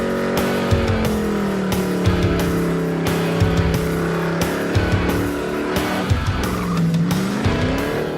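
A race car on a race course roars continuously up close, its engine note rising and falling while tires squeal and skid through the corners, with no voices over the steady loud noise.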